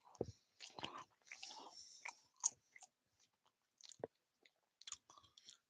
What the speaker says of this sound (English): just let me finish my sandwich